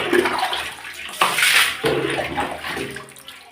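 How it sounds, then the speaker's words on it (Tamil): Water splashes and gushes across a tiled bathroom floor during cleaning, a loud steady wash broken by two sudden surges of poured water. "இதுமாதிரி நம்ம ஃபுல்லாக கழுவி விட்டுணும்"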